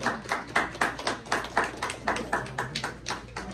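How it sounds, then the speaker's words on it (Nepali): Steady applause from a small gathering at a cake-cutting ceremony held during a special home-care honor event, a run of distinct, fairly close claps in an uneven rhythm with no talking over them. "ताली लगाइदिनु हुन अनुरोध गर्दछु"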